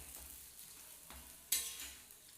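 A potato-stuffed paratha frying in a pan, a faint, quiet sizzle broken by a couple of light scrapes and one sharper knock of the turner, with no voices.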